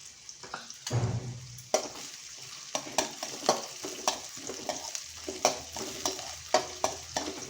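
Onions and vegetables fry in a pan for soya pulao, a steady sizzle broken by repeated scraping stirs of a spoon against the pan, close and moderately loud with no talking.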